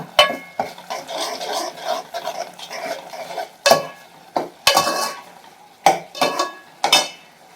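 Sautéed tomatoes in oil for an okra masala are stirred in a pan, with soft sizzling under repeated scraping strokes and several sharp metallic clacks of the spoon against the pan, close and alone.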